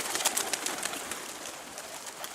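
Pigeons being flown upward from a loft, with rapid broadband fluttering bursts of wingbeats close by, steady and busy throughout with no voices.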